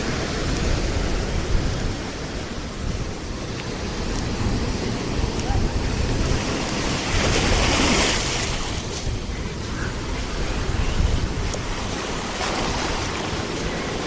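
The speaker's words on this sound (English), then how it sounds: "Michigan freshwater waves are kind of cool." Freshwater lake waves roll onto a Michigan beach, a loud, continuous rushing wash with wind buffeting the microphone and surges swelling at times.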